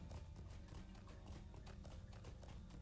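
A horse's hooves clip-clop in a steady rapid rhythm while riding in Lord of the Rings Online, dense and continuous under a busy game soundscape, without talk.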